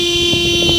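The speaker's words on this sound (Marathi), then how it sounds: "अरे हॉर्न नको देऊ गाडीला" Vehicle horn honking during a road trip to Mumbai: one short, steady, loud toot lasting under a second, heard close with no talk over it.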